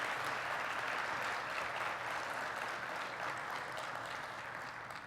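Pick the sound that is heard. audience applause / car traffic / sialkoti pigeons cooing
audience applause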